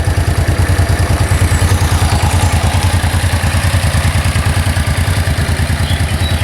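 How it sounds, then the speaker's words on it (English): A Suzuki VX 800 motorcycle engine idles steadily up close after carburettor balancing, a loud, rapid even thumping pulse with a slight mechanical clatter, no voices. "Engine idling beautifully."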